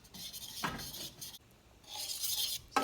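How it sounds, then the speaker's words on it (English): Spoon stirring a melted chocolate mixture with cocoa powder and swerve for a keto Nanaimo bar base, soft rasping scrapes in a few strokes against the bowl, close and quiet. "Stirring it all to combine to make this rich, chocolatey base"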